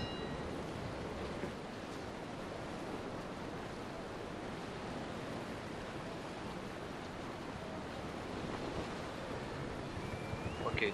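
Wind and waves while sailing a boat, a steady broadband rush of wind and water close to the microphone throughout, with a few faint knocks and a slight swell in level near the end.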